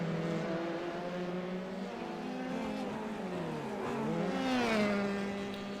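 A Formula 3 race car engine at Long Beach drones loud and steady, its pitch sliding and swelling as the car accelerates and passes, with no voices over it.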